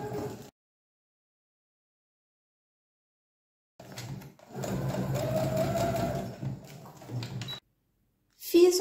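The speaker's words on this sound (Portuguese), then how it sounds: "Agora vai lá na máquina e passa uma costura com ponto bem largo" A sewing machine runs a wide safety stitch along the edge of a plastic pouch for medicines or pads. It sews in one steady, close burst of about three seconds, with a shorter run after it and quiet gaps around them.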